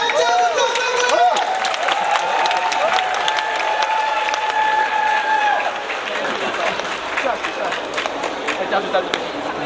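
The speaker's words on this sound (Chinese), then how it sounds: "再次给我们 Angels 掌声鼓励" A baseball stadium crowd applauds the Fubon Angels cheerleaders at a CPBL game, the clapping mixed with cheers and loud, tonal vocalizing that rides over it throughout.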